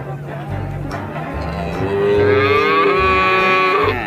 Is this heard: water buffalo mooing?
yes